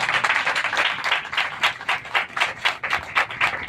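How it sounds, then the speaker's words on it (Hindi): Church congregation clapping loudly in rhythm, sharp regular claps at a quick steady beat, close and dense, with no voices over it. "हालेलुया, जोर से ताली"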